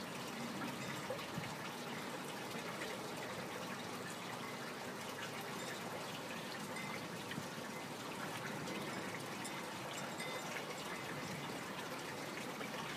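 Vortex-driven water flows continuously through a bioponics fish tank, a steady close gushing and trickling that stays even and unbroken throughout.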